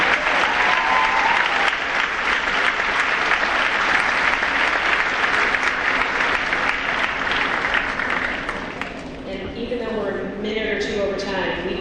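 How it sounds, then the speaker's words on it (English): Loud, continuous applause fills a senior awards assembly for teachers, staff and parents, a dense crowd roar of clapping that thins out near the end as scattered voices take over. "let's give them all a round of applause at this time"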